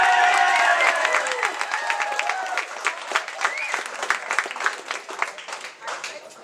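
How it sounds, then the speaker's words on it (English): An audience at an Exodus DVD screening breaks into applause and cheering, dense clapping that thins into scattered claps over several seconds, with a voice at the start. "How about a round of applause for Exodus"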